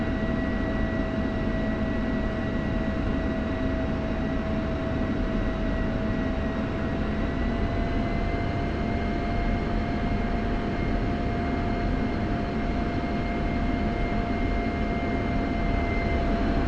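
An F-16 jet taxiing in the flight simulator game DCS World gives a steady, loud engine drone with a constant whine that holds unbroken for the full length, with no speech.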